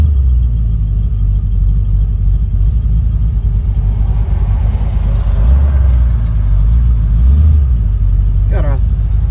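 A 1967 Chevrolet Camaro RS SS engine idles close by with a deep, steady rumble and low throb, under faint speech, with a brief rise near the end.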